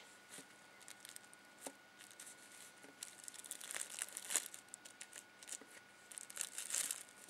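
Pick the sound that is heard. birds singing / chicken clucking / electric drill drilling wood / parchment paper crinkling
parchment paper crinkling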